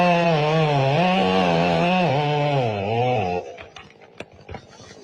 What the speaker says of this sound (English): Why did that chainsaw sound like it was making an O noise?